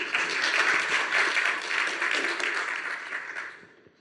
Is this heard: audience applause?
yes